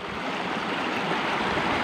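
A river near an old hamlet in Kalongan village, Ungaran, with a steady, broadband rushing flow of water, fairly close and continuous without any talking.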